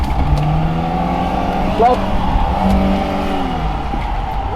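A Lada engine revs close by with a low, rough drone that rises and falls, briefly surging with a sharper flare before settling back into a steady growl.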